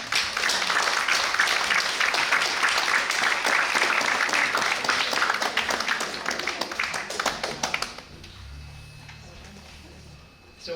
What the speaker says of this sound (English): let's give a warm applause to our volunteers